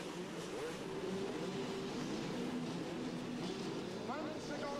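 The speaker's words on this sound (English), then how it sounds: "these guys take off, and immediately that 250cc Suzuki of Michael PICHON gets the power down" A field of 250cc motocross bikes, among them a Suzuki, launches from the starting gate at a 2002 250 MX GP race at Kaarten, a dense, continuous engine roar with rising revving tones under a commentator's voice.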